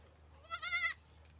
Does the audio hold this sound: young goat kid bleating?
yes